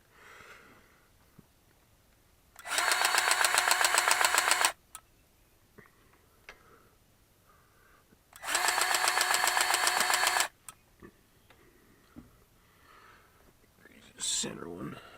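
A Milwaukee M18 cordless grease gun pumps grease in two loud, sustained motor bursts of about two seconds each, separated by quiet gaps with small clicks and handling noises.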